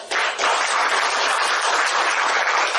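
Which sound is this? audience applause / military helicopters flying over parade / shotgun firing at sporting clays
audience applause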